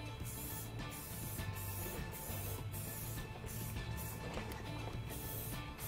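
Adam's Polishes tire and trim dressing is sprayed from a trigger bottle in a quick run of short, close hissing bursts, repeated about eight times.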